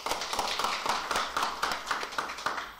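Audience applause at a neighbourhood residents' general assembly, with claps in a steady, fairly regular beat that carry on evenly for a few seconds at moderate volume.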